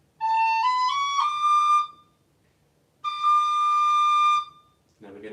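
Tin whistle playing a stepwise run from D, bright clear notes climbing in a smooth phrase, then a second sustained passage after a short pause, close and solo with a brief noisy sound at the end.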